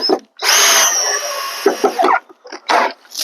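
Black & Decker power drill whirring loudly in long bursts, with a sustained run of about two seconds followed by short choppy pulses and a final burst, up close in a home camper build.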